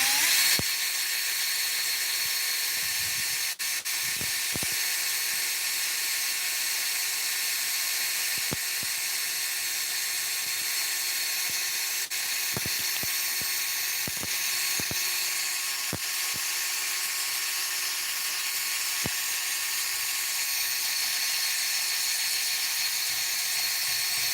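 A power tool whines continuously at close range while stripping chipped paint, a steady high-pitched grind broken by occasional clicks and scrapes.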